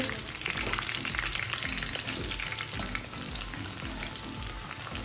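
Chicken fries for biryani in a pan, a steady, dense sizzle that holds at an even level throughout, with faint stirring scrapes mixed in.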